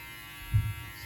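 A new Wahl hair clipper switching on, a short electric buzz rising briefly after a moment of low background noise, close and fairly quiet.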